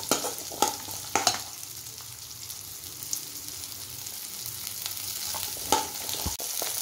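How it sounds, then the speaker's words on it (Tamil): Coconut and onions sauté in a pan for Madurai-style chicken kulambu, a steady sizzle broken by a few sharp spatula scrapes and clicks, close and moderately loud with no talking. "தேங்காயும் வதக்கணும். இது நல்லா சிவக்க வதக்கணும்."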